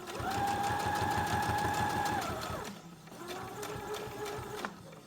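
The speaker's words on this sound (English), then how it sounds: "I also have my sewing machine set to where when I stop the pedal, it leaves the needle in the lower position" A sewing machine topstitches a fabric mask in a fast, steady run, pauses with the needle down at a corner, then resumes a shorter burst of stitching at the same close, even rhythm.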